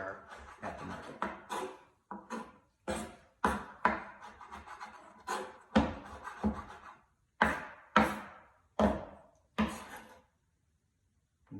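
A knife mincing garlic on a cutting board, sharp rhythmic chops in quick bursts with short pauses, close and clear, heard alone.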